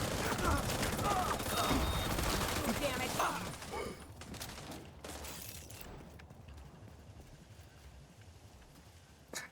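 Video game gunfire, dense rapid shots and clatter for the first few seconds, then thinning out into sparse distant pops, with a voice talking over it.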